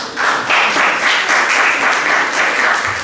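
A church audience breaks into loud, close applause that swells quickly and holds at a dense, even level for a few seconds.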